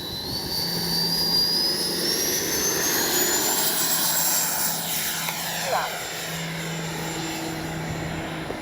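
FMS 80mm F-86 Skyblazers RC jet with an electric ducted fan, running loud and steady with a rising high whine over a deep, throaty roar, heard up close and continuous throughout.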